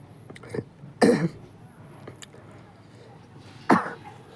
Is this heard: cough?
yes